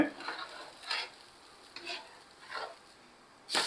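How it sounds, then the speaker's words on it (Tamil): Adai dosa cooks quietly on a pan while a spatula loosens its edges, making several short scraping strokes over a faint sizzle. "இப்போ நல்லா வெந்துருச்சு ஸோ சைடில் நல்லா ரிலீஸ் பண்ணி விட்டுட்டு"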